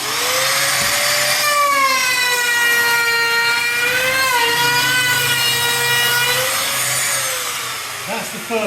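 A handheld router guided by a homemade jig whines steadily as it cuts old putty from a window frame, a loud continuous tone with shifting pitch that winds down near the end.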